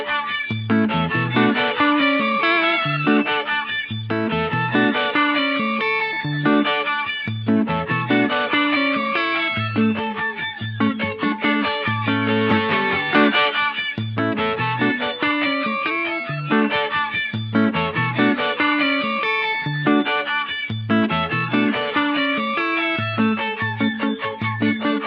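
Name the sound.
Electro-Harmonix Deluxe Memory Man analog delay, octave repeats, vibrato modulation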